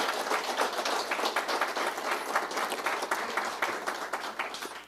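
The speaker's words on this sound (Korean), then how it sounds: "다시 한번 큰 박수를" Sustained audience applause at a Korean history lecture, a dense steady wash of many hands clapping from a large crowd, filling the whole stretch without a break.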